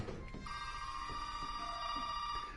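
A telephone rings in the Resident Evil 7 video game, a steady electronic trill that holds on for over two seconds with soft game ambience beneath it.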